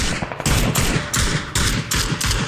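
Heavy gunfire in the battle royale game PUBG: repeated loud bursts of automatic fire, about five or six separate volleys with short gaps between them, close and punchy.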